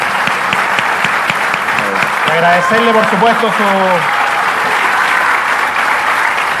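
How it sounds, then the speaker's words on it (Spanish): Crowd applause for former Chilean president Sebastián Piñera at a breakfast forum, steady dense clapping throughout with someone speaking over it partway through. "quiero pedirle un gran aplauso para el expresidente Sebastián Piñera"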